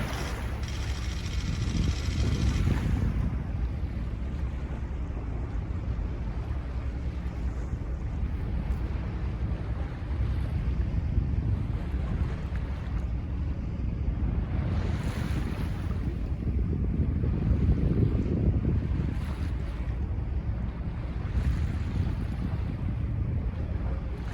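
Low, gentle thrum of a whale watching tour boat's engine on open water, a steady rumble mixed with wind buffeting the microphone and wash of waves, rising and easing in long swells.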